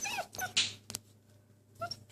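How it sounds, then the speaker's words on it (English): A newly adopted puppy whimpers in a series of short, high, thin whines and yips, close and fairly loud, with quiet pauses between them. "But we just got this puppy today."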